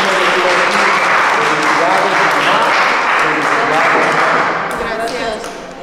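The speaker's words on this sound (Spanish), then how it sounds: "Le damos un fuerte aplauso a Mateo." A crowd claps for Mateo after his baptism ceremony, a dense, loud burst of applause that carries on for several seconds before tapering off slightly.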